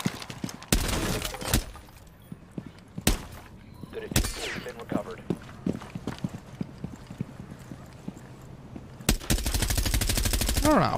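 Automatic gunfire in the video game Rainbow Six Siege rattles out in a loud, sustained burst early on, then scattered single shots follow, and a second long burst comes near the end, close and sharp.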